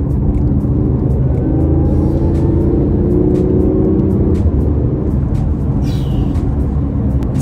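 BMW i8 hybrid sports car with a rear-mounted engine accelerating, heard from inside as a steady, loud low rumble that holds throughout, with no talking.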